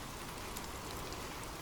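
Rain pours down in a dense, steady wash of noise, even and constant throughout, with nothing else heard.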